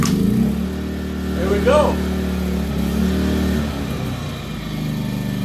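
Small Japanese engine started without choke, settling into a steady low idle hum throughout, with a brief rise near the start; someone speaks over it.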